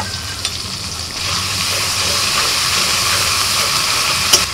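Ginger and green chili paste frying in a pan with softened tomatoes, a steady close sizzle and hiss with a small clink near the end, no talk.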